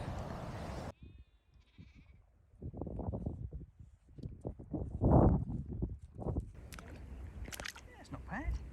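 Sheep bleat nearby at a reservoir in the Elan Valley, with a few bleats and rustling mixed among people talking.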